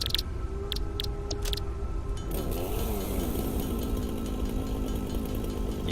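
A chainsaw in the video game Satisfactory starts up after a few short clicks, then runs as a steady buzzing, rumbling motor drone that stays loud to the end, with no voices.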